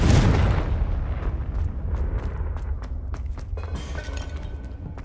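A Confringo spell in Hogwarts Legacy bursts with a loud, booming explosion at the start, then a rumbling, crackling tail of debris and sharp pops fading over several seconds.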